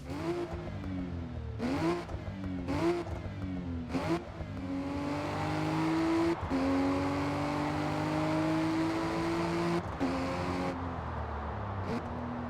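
A 2020 Toyota Supra engine in the Forza Motorsport racing game revs up through rapid gear changes, with short sharp gaps between shifts, then holds a loud, steady, climbing high-rpm drone, close and without voices.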